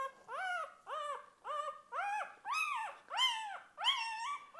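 A young puppy from a litter whimpers and yips in seven evenly spaced, rising-and-falling cries, close and clear, with no talking.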